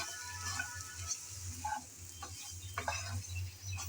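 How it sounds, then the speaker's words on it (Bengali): Spice paste fries in hot oil in a pan for a pointed gourd (potol) dish, a soft continuous sizzle broken by a few scraping stirs and light clinks. "মশলাটা দেওয়ার পর তেলের মধ্যে ভালোভাবে এভাবে আগে একটু ভেজে নিতে হবে।"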